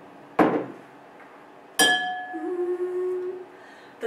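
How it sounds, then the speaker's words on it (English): Two sharp taps on the rim of a partly filled water glass, each ringing out as a clear sustained tone that slowly fades, with a small clink at the very end. "when we tap the edge of the glass, it makes a note on the scale."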